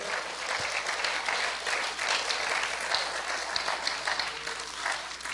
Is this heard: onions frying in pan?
no